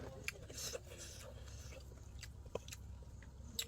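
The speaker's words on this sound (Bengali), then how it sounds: "আমি খাইতে থাকি" Soft chewing and biting during a lunch of small fish, with a few sharp clicks and crunches spread over a quiet background, close and faint, no talking.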